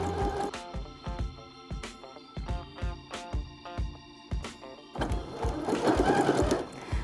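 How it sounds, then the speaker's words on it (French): Sewing machine stitching two fabric strips together with a 7 mm seam, a steady close run of rhythmic mechanical clatter that speeds into a denser, louder burst near the end, with no talk. "Et c'est parti pour coudre ensemble les deux bandes à 7 mm."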